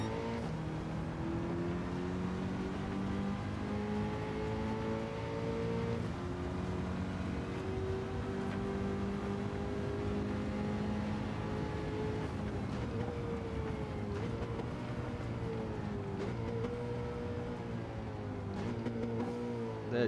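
An engine-swapped Nissan Silvia S13 race car in Gran Turismo 7 races at Le Mans with a steady, sustained engine drone. Its pitch rises and falls through gear changes over about twenty seconds, and no one speaks.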